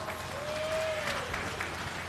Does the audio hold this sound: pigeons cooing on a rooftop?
no